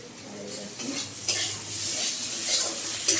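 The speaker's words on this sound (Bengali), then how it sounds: "পটল আর আলুটা হালকা হালকা করে ভেজে নেবো" Pointed gourd and potato pieces being lightly fried in a pan, a steady soft sizzle under scraping stirs and occasional clinks of a utensil against metal, close and moderately loud.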